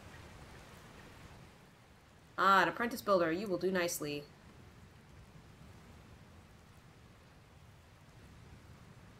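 In Dragon Quest Builders 2, steady rain falls throughout a stormy scene, a soft, even hiss that continues under a brief spoken line from a character.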